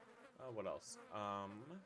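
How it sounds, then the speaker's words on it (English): A fly drones softly nearby, its buzz running steadily under a voice that keeps talking. "I'm sorry about the fly buzzing"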